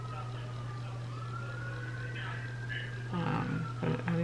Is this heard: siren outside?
yes